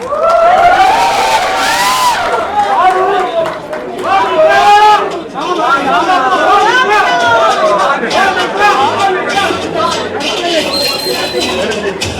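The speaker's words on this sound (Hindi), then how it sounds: "उसके लिए रंजन तितली और दूल्हे की माता श्री और बहन के लिए ढेर सारी तालियां।" A crowd at a film trailer launch event cheers and claps loudly, with shouts and excited voices rising and falling over continuous applause while a host speaks over it.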